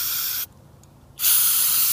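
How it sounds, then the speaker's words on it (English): Starter fluid hisses from an aerosol can into the carburetor of a 2007 Roketa 260cc ATV that won't start, in two loud, steady sprays broken by a brief pause. "Maybe I'll probably get a start if I keep spraying starter fluid in the carburetor."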